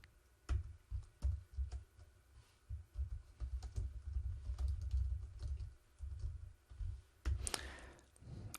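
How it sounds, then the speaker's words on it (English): Computer keyboard typing at close range, with irregular bursts of soft key clicks and thumps forming quick runs separated by short pauses, and a sharper clatter near the end. "So let's type the interpretation"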